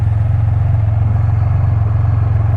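A repaired Can-Am Spyder RT three-wheeled motorcycle idles close by, its engine a steady, loud, even low thrum with a fast regular pulse and no voices over it.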